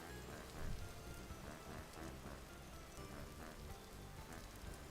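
Steady rain in the Vintage Story video game falls as a dense, even hiss of drops on surfaces, soft and continuous with faint low rumbles underneath and no talking.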